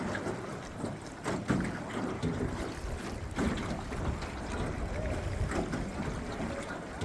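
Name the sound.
boat gliding on water under a rock overhang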